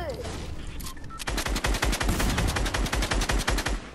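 Rapid automatic gunfire in the Fortnite Chapter 2 video game: a dense burst of loud, close shots in quick succession after a short quieter lead-in.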